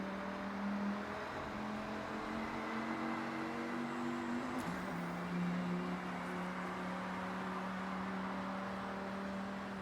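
Dodge Ram SRT-10 pickup with its Viper V10 engine, driven in Forza Horizon, holding a steady loud drone with a pitch dip near the middle as it shifts and keeps pulling, continuous and close with no talk.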